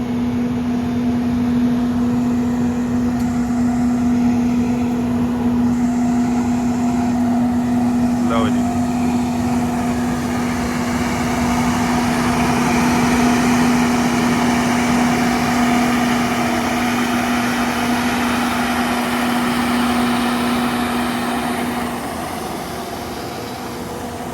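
A Shaktiman sugarcane harvester and decorated tractors roll in with engines running, a loud, constant mechanical drone with a steady hum that eases slightly toward the end, while a voice talks over it.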